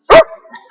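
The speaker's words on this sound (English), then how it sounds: "No barking." A single loud, close dog bark, short and sharp, followed by a faint trailing whine-like tail.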